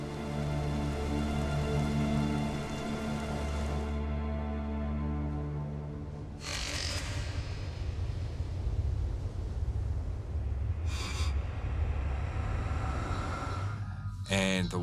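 A brief rain shower falls during a survival ordeal at sea after hurricane waves, heard as a steady patter of raindrops on a surface with a low rumbling undertone and occasional bursts of wind noise.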